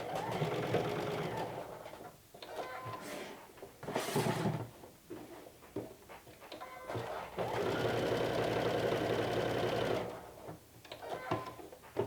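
A sewing machine top stitches fabric on a cozy wrap in long steady runs, close and clear, broken by short pauses and light handling clicks.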